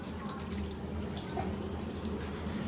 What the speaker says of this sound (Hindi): अब सभी बच्चे एक एक करके हाथ धोना, धो के दिखाएंगे।